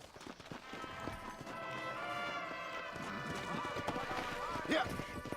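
A horse clip-clops in Red Dead Redemption, steady hoofbeats running beneath a voice and a swelling game soundtrack, with a sharp knock near the end.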